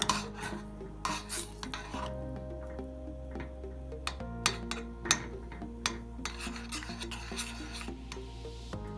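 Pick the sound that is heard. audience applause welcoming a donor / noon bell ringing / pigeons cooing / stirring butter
stirring butter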